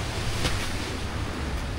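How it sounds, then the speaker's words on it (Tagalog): Strong waves crash at an abandoned beach resort in Cavite, a loud, continuous roar of surf mixed with wind buffeting the microphone. "malakas masyado yung alon"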